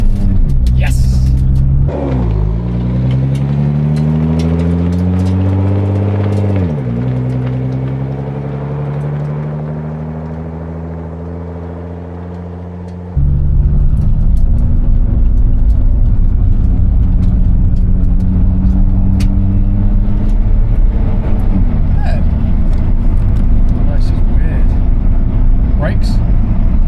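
A Nissan GT-R R35 revs hard and pulls away, its engine note climbing through the gears with a gear-change dip before surging again, loud and close from inside the car, with a voice exclaiming over the roar.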